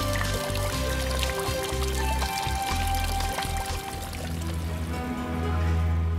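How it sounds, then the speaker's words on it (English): Water splashing and pouring steadily from the lion-head spouts of a historic stone fountain crowned with stone bears, in front of colourful houses in an Austrian village, continuous and close with low background hum. "the historically protected fountain in front of the colourful houses is crowned with bears made from stone and decorated with lion heads sprinkling out water"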